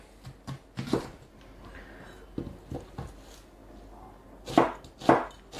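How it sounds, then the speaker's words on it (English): A knife roughly chopping carrots on a cutting board, a few separate sharp knocks at an uneven pace, with louder clustered chops toward the end, close by with no talk. "We're gonna take 2 carrots, and we're gonna roughly chop them."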